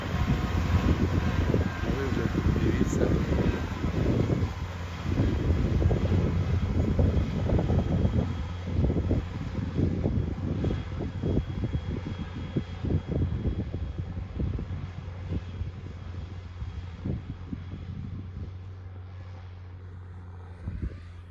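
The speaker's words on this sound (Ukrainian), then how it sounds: "Ну а це так бачите, як працює, оприскувач, як розпиляє." A tractor engine hums steadily at a distance while its crop sprayer hisses continuously over a soybean field, with wind buffeting the microphone.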